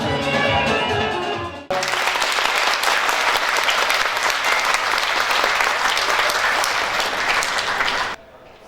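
Steady, loud audience applause fills a children's event at a women's and children's disability centre in Ganja, sustained clapping for several seconds, preceded briefly by music.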